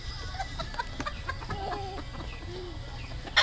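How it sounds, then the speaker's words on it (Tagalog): Chickens cluck softly in a rural yard, with a few short, scattered calls over a low background hum and a sharper, louder sound at the very end. "Ayan, tukain anak ng manok."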